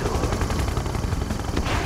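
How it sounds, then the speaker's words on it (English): Siege chopper artillery fire in the Red Alert 2 video game rattles as a rapid, dense, loud burst of gunfire-like blasts with no let-up over about two seconds. "Siege chopper artillery."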